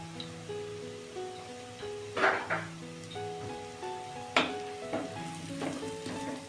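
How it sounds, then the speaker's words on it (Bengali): Sliced onion fries gently in oil with a pinch of turmeric, giving a soft, steady sizzle with a few louder spatula stirs and scrapes over a faint tonal background. "পেঁয়াজটা আমি বেশি লাল করে ভাজবো না, হালকা করে ভাজবো, হালকা লাল করে ভাজবো"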